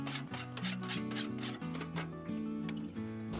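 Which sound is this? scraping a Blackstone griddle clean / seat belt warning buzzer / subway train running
scraping a Blackstone griddle clean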